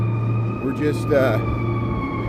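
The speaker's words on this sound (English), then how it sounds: "Here comes some more sirens. Here comes an ambulance, I think." An ambulance siren on a Chicago city street wails with rising and falling tones over a steady low traffic hum, while someone speaks briefly nearby.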